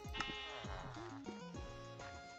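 Sheep in the Minecraft video game bleat several times in quick succession, clear wavering cries that sit close and fairly quiet with no talking over them.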